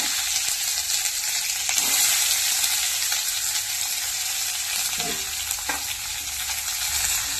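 Steady loud sizzling of onions frying in hot oil, with occasional stirring scrapes, continuous and close.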